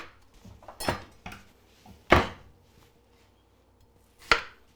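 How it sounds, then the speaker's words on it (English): Yellow onion and vegetables are sliced on a cutting board for a breakfast hash, a few sharp, separate knife chops landing at uneven intervals against a quiet kitchen background, with no one talking. "Now we need to start cutting up some of our vegetables."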